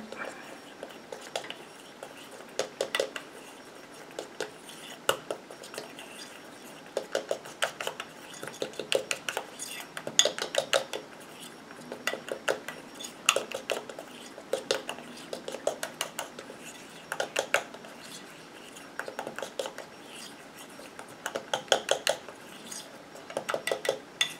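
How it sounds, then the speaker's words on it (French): A utensil stirs oat hand cream mixture in a bowl, making repeated light clinking and scraping taps against the sides that run steadily throughout, fairly faint and with no voices. "Je mélange."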